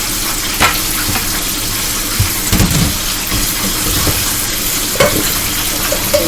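Noodles stirred in a pan, a steady bed of frying sizzle with scattered scraping and clacking stir strokes, louder bursts near the middle and end, no voices.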